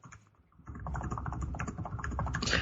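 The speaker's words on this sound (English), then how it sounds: "That was me typing." Rapid, irregular keyboard typing close by, a steady flurry of clicks after a brief quiet start.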